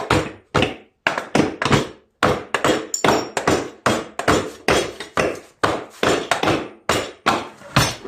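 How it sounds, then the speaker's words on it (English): Rapid hammer taps on a metal rear-tine Craftsman tiller part, close and loud, in quick irregular bursts with short pauses between runs. "You may have to tap on it with a hammer."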